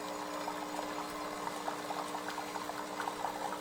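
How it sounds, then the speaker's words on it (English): Water dripping steadily from the back of a Breville Barista Express espresso machine, a faint continuous bubbling trickle with soft repeated drips over a low steady hum, no voices. "It's dripping, just a constant drip, drip, drip, drip, drip."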